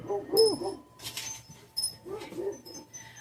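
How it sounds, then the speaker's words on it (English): Dogs whimper and yip in short, high, nasal bursts indoors, coming in two clusters with faint scratchy noise between, moderately close and fairly quiet. "My dogs are going off."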